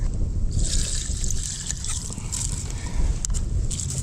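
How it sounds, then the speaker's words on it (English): Hot water is poured over noodles in a pot at a solo campsite in Huguenot Park, a steady close splashing trickle lasting throughout with a low rumble beneath. "Let's pour this in here"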